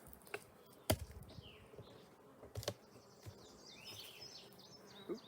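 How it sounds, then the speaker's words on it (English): A hive tool cracks open a plastic beehive with two sharp, loud clicks and a few lighter knocks, while honeybees buzz softly and steadily nearby. "we're gonna crack open the hive using our hive tool"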